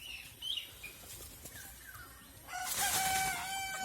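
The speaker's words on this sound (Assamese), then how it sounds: "লোকেল মুৰ্গী।" A local village rooster gives one loud, drawn-out crow near the end, after a few faint chirps and clucks from local chickens resting under trees.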